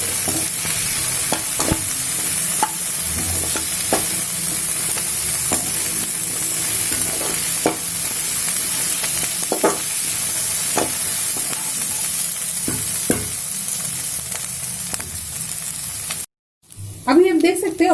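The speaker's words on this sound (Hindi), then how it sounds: "अभी इस सभी चीजों को मैं अच्छे से फ्राई कर लूंगी।" Onion, ginger, garlic and green chili fry in a pan with a steady loud sizzle, broken by repeated light taps and scrapes of stirring, and a brief clatter near the end.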